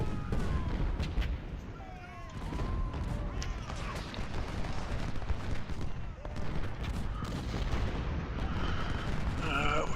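Artillery fire in Ultimate General: Civil War, with booming cannon blasts and crackling musketry rolling through a busy battle soundscape, punctuated by whistling projectiles, loud and continuous.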